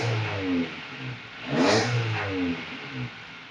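A Honda EF Civic engine revs up and settles back in a few rising and falling sweeps over a low idle, close and fairly loud, with no talking.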